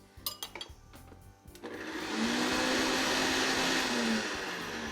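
A few clicks and knocks, then a blender starts up with a loud, steady whirring roar that continues evenly to the end.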